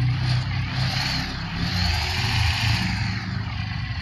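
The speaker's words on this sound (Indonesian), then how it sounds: "Untuk suara mesinnya ini begini guys." Diesel truck engine idling steadily in a Bus Simulator Indonesia mod of a Ragasa box long-chassis truck, a low continuous rumble with a broad hiss on top, loud and even throughout.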